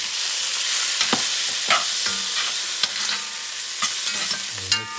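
Garlic and very ripe tomato stirred in a pot over medium heat for a chicken stew, giving a steady close sizzle broken by repeated spoon scrapes and small clinks against the pot.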